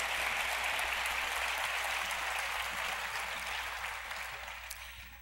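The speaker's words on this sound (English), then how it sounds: "applaud Steve" Audience applause at Ebertfest for filmmaker Steve James, a dense, steady wash of clapping from a large crowd that holds evenly and then slowly fades toward the end.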